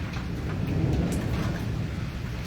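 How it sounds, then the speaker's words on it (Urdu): A thunderstorm over Islamabad, Pakistan, with a steady wash of heavy rain and a low, continuous thunder rumble underneath, close and unbroken. "ये बारिश, ये तूफ़ान और बारिश सर्दियों का दरवाज़ा खोल रही है"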